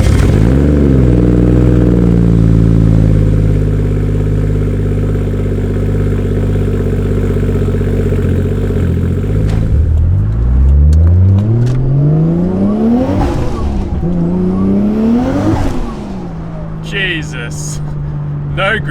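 A Toyota Chaser with a Barra turbo engine swap revs hard, its loud engine note sweeping up and down repeatedly as the car loses grip, with gear changes and rising pulls near the microphone, fading somewhat at the end.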